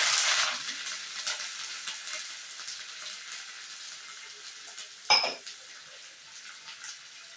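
Curry leaves hit hot oil in a tempering for tomato dal, giving a loud hissing sizzle that fades over several seconds, followed by a single sharp metallic clank of a utensil against the pan.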